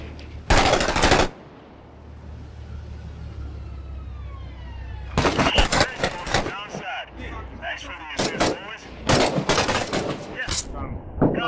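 Gunfire in the military shooter Six Days in Fallujah, loud bursts of rapid automatic shots that open and then resume in several heavy volleys, with a quieter stretch between and voices underneath.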